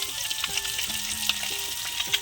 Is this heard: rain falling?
no